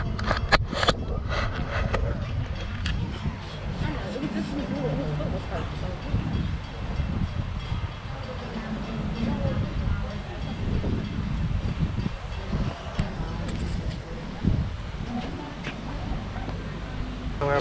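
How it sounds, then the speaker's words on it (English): A park tour train at an alligator park rolls along with a steady rumble and clatter, wind and rustling mixed in, and people talking nearby. "We're about to go on the train right now."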